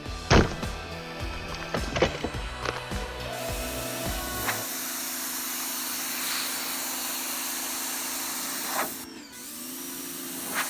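A Greenworks 2000 PSI electric pressure washer starts after a few handling clunks and knocks, then settles into a steady motor whine and spray hiss that continues to the end.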